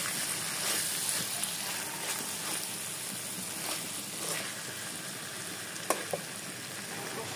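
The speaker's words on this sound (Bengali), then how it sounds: "ভেজে রাখা আলুগুলোকে দিয়ে এরপর সব ভালো মতো আবার একসাথে নাড়িয়ে নেব।" Fried potatoes are stirred into a sizzling spice mix for a katla fish curry, giving a continuous soft frying hiss with faint scraping and a couple of brief clicks, close and low in level.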